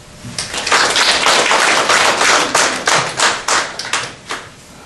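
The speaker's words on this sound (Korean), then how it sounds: "박수로 맞춰주십시오" A room full of people at a university literary award ceremony applauding steadily, then thinning into a few scattered, separate claps as it dies down.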